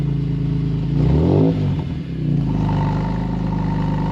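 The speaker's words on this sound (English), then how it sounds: "why don't you start it up so we can do a cold start?" A BMW M3 fitted with a new custom exhaust idles after a cold start, a loud, deep, steady rumble near the car that swells in one brief blip of revs midway and then settles back to an even idle.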